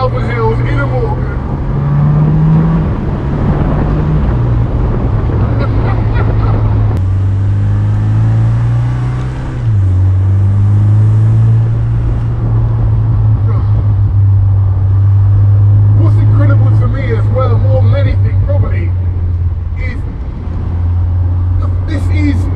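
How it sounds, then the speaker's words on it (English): A Morgan Plus Four with a BMW four-cylinder engine climbs the Malvern Hills, heard from inside as a loud, steady engine drone that shifts pitch with gear changes and acceleration, with someone talking over it. "Climbing the Malvern Hills in a Morgan."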